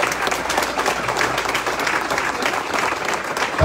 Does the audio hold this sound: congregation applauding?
yes